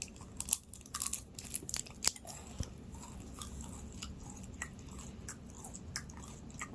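Candy gum chewed close to the microphone, with crisp crunching bites at first that soften into quieter, steady moist chewing.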